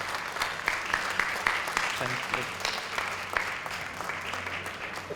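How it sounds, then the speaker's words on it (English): Audience applause for the morning session's speakers at a Malay heritage talk, steady clapping throughout with a brief spoken thanks near the end. "Let's give a round of applause to our speakers"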